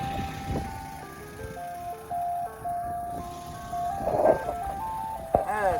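An ice cream truck pulls away while its chime melody plays loudly and steadily, the engine rumbling underneath and a few brief knocks and squeaks near the end.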